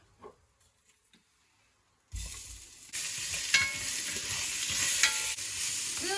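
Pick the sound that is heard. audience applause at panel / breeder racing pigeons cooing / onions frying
onions frying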